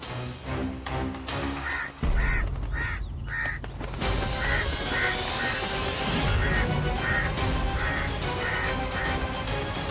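Loud, repeated caws from a crow, voicing Kagasur the crow demon in a mythological drama, ring out in close succession over a dense, dramatic background sound bed.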